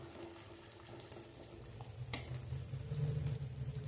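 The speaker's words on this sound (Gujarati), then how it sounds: "તો હવે બટેટા તેલમાં સરસ એવા ચડી જાય ત્યાં સુધી રહેવા દેવાના છે" Potato pieces fry in hot oil in a pan for sabudana khichdi, giving a soft, steady sizzle and crackle that stays fairly quiet and grows slightly louder toward the end.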